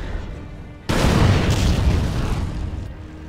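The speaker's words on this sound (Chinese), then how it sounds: "我先请 P47 轰炸一轮" Bombs from a P-47 air strike erupt in a World War II video game: a sudden heavy boom lands after a quiet lead-in, then a sustained rumbling roar of blasts that slowly tails off, loud and close.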